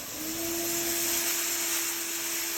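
A Horfood Q-12 coffee destoner's blower running under a frequency converter, a steady loud rushing whoosh with a constant motor hum that stays even throughout.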